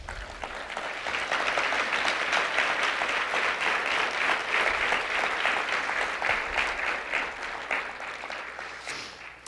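A church congregation claps loudly for a preacher's message, a thick sustained roar of hands that holds steady for several seconds before easing off at the end.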